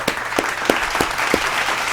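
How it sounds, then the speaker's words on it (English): A handful of sharp, evenly spaced hand claps from what seems to be one or two people, close and dry over a steady background hiss, with no crowd noise. "Just let's give a round of applause"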